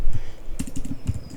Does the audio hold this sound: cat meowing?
no